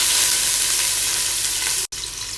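Onion sizzling in a pan of hot oil with whole garam masala spices for tomato rice, a steady loud hiss that runs on without pause, broken only by one very short gap near the end.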